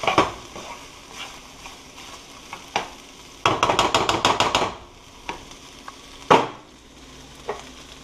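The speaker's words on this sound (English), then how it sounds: "Lower heat. I'm going to mix it. Okay, let's get some of it moving around." Chicken fried rice stirred in a hot pan over lowered heat: a continuous sizzle of frying runs throughout, broken by sharp scraping and clattering strokes of the utensil, including a quick rapid burst in the middle and a few louder single scrapes, close and clear.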